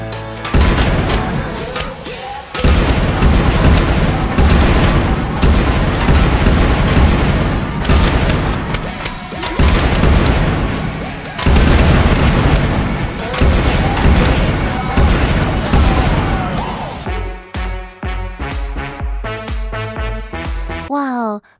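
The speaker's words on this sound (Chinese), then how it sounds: "会发射出一圈刺球攻击僵尸，并且刺球还会有概率套娃或击飞僵尸。" In the video game Plants vs. Zombies, a spikeweed fires rings of spike balls at a horde of giant zombies, a loud, dense barrage of repeated booming impacts over game music.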